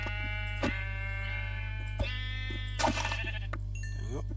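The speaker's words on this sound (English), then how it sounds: "There we go, some sheep." Sheep in the video game Minecraft bleat several times in short, distinct cries, clear over a steady low hum.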